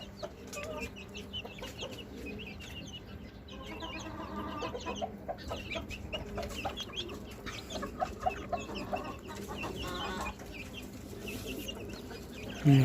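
Chickens and a large rooster cluck continuously on a rooftop. The soft, busy clucking runs at a moderate level, with scattered louder calls and a brief loud burst at the end.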